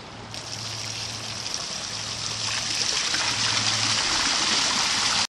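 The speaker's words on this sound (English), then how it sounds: "The water is starting to come out of the waterfall right now" Water pouring steadily out of a backyard pond waterfall, a continuous broadband splash and trickle with a faint low hum underneath, holding constant and close throughout.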